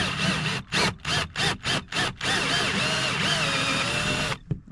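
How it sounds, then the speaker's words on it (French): A drill bores out the rivets holding an old licence plate, firing several short bursts of whine in quick succession before a longer, wavering run as the bit bites through, close and loud, then cutting off. "Là, on va percer aussi."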